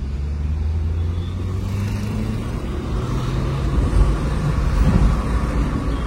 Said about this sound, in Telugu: చూడండి సెకండ్ గేర్ ఆల్మోస్ట్ అయిపోయింది, అప్పుడే 80 పోయింది బండి